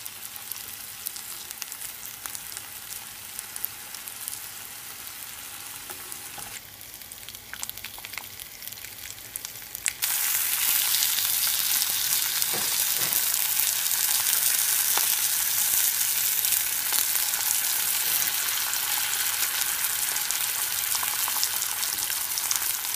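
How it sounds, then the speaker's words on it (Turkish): Homemade ground-meat döner cooks in a dry, oil-free pan with a steady, close sizzle and crackle. The sizzle grows noticeably louder and brighter partway through and continues without talk. "Yağsız tavada veya fırında pişiriyoruz. Gördüğünüz gibi çok güzel pişiyor."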